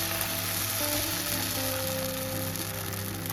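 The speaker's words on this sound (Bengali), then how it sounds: "ব্যাটার থেকে এরকম এক হাতা করে ব্যাটার নিয়ে দিয়ে দেবো এরকম কড়াইয়ের মধ্যে দিয়ে এইভাবে একটু রাউন্ড করে ছড়িয়ে দেবো" Patishapta batter sizzles steadily in an oiled wok, a close, even hiss that holds at constant loudness throughout, with no voices present.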